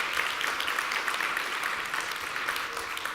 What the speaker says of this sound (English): Big round of applause to Manuel.